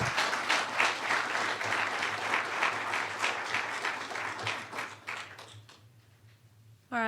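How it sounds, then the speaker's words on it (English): Audience applause at an academic gender and sexuality lecture welcoming Dr. Maria Cotera, dense steady clapping that thins and fades out near the end before a brief voice enters. "please join me in giving a warm round of applause to Dr."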